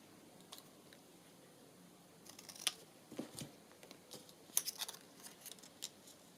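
Scissors snipping paper to trim a collage page, a few quiet, crisp cuts scattered among faint handling rustles in a hushed room.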